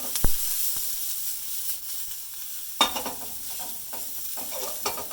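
Thinly shaved vegetables sauté in a hot pan. A steady sizzling hiss is broken by sharp scraping stirs and a few louder bursts as they are tossed.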